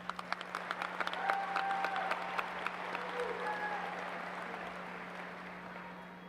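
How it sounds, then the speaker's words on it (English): Graduation ceremony audience applauds accomplished student performers in a large hall, sustained clapping with sharp individual claps early that slowly thins and fades, over a constant low electrical hum. "Can we get a round of applause for all these accomplished performers?"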